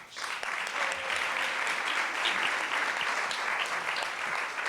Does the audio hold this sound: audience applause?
yes